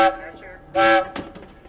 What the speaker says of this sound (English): And then 3 short whistles.